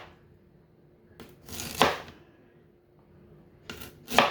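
A knife slices thin pieces of ginger, making several crisp cuts close up on a board, arriving in small clustered bursts with quiet gaps between them.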